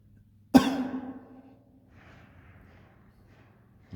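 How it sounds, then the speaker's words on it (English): A single sharp, loud cough close to the microphone inside a cold house basement, trailing off over about a second, followed by faint rustling and another brief sound at the end. "Yeah, I'm coughing in here."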